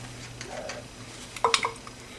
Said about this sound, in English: Keep stirring your condensed milk in